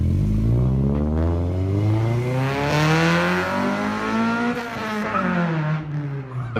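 A Honda-style tuner car fitted with a J's Racing exhaust pulls away, its engine revving up through the gears with a raspy, rising exhaust note, loud and close at first and staying prominent as it accelerates off.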